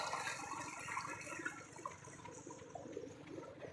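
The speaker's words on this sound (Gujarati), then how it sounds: "એટલું આ પાણી જાય છે, ખાતર બધું મિક્સ કરીને જવા દીધું છે" Irrigation water mixed with fertilizer gushes steadily into a two-bigha brinjal field, a faint, continuous rushing flow with no voices.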